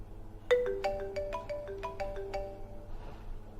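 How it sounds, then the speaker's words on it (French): A mobile phone ringtone plays a bright, rapid melodic pattern of sharp repeated tones for about two and a half seconds before stopping, clear and close over a faint background hum. "téléphone va sonner."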